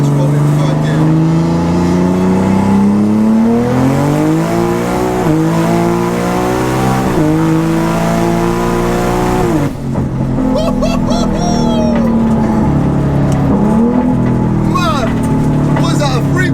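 A tuned BMW pulls hard in third gear, engine note climbing loud and strained through long sweeps, briefly lifting off before surging again, with occupants talking over the roar.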